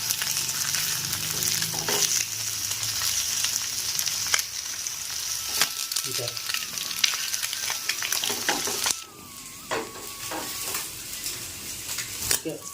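An egg attu (egg dosa) fries in a pan with a steady, dense sizzle throughout, punctuated by scraping and clinks of a utensil against the pan; the sizzle drops briefly in level partway through before continuing.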